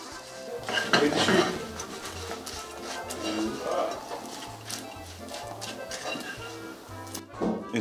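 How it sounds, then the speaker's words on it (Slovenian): Popcorn is tipped into a pot of caramel and stirred, giving repeated clattering scrapes and knocks of a spoon against the pot, fairly close but moderately quiet, with faint kitchen noise around it. "Dodamo kokice."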